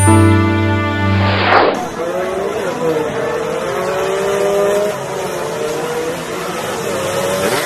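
Racing motorcycles scream past at high revs on a track, then loud motor whine and tire noise continue under a blaring crowd or commentary wash.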